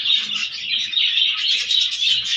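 Continuous high chirping and tweeting from several small caged pet birds in the morning, lively and overlapping, fairly close with no pauses.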